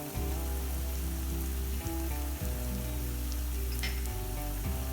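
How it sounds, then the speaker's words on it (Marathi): Onions frying in a pan as chili powder, turmeric and Malvani masala go in, giving a steady, dense sizzle close by with a couple of soft stirring knocks and no voices. "आता आपला कांदा लाल झालाय, तर आपण मसाला टाकून घेऊया."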